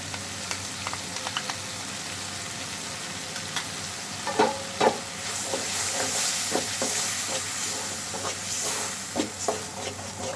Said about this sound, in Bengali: আমি আজকে কচুরলতিটা নারকেল বাটা দিয়ে বসাচ্ছি।